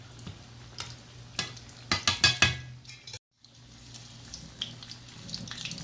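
Chicken keema aloo patties fry in oil in a pan, giving a steady sizzle. A run of quick sharp clatters and scrapes, likely from turning the patties, cuts off into a brief silence before the soft frying resumes.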